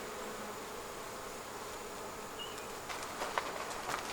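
Honey bees hum in a constant, close buzz at an open hive being fed pollen patty and sugar syrup, with a few sharper individual buzzes and light knocks toward the end.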